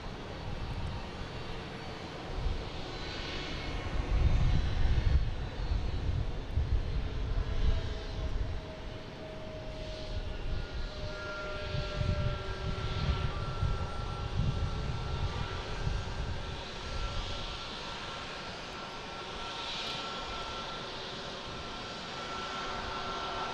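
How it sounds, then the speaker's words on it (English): A JetBlue Airbus A220 bound for Atlanta at Boston Logan gives off a moderate jet rumble with a thin engine whine, swelling around the middle and then easing into a steady, fairly distant drone. "We have JetBlue here heading to Atlanta in A220"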